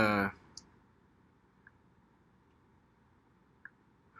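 A computer mouse clicks a few times at a desk during a Facebook ads tutorial: three faint, sparse clicks spread over several seconds in a quiet room, following a brief burst of speech at the start.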